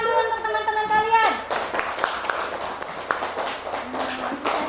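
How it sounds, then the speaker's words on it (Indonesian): Classmates break into a short burst of clapping in a classroom, brief scattered applause of several hands following a tonal voice, with light tapping continuing after. "Tepuk tangan dulu untuk teman-teman kalian."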